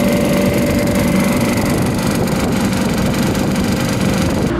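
Two condensing unit motors of a faulty refrigeration condensing unit running continuously in summer heat, a loud steady mechanical hum and whir with a constant low drone, close by and unchanging throughout.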